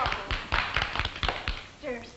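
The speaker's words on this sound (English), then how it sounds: "Stop applauding." A radio show studio audience claps in a short burst of scattered applause, a handful of loud hand claps rising and fading, with a speaking voice coming in near the end.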